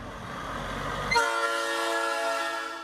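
Motorists' car horns blare at once after a moment of low background rumble at the reopening of Highway 1 in Big Sur, several sustained tones layering into a loud, continuous chorus that holds steady.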